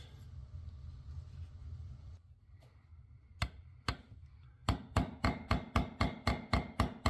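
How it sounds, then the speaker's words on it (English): Hammer peening copper rivets fitted with small copper burrs on a metal medieval wall sconce: sharp metallic strikes, first two spaced blows, then a rapid regular run of about ten close, loud hits. "I can peen that over, and got these little copper burrs to put on there"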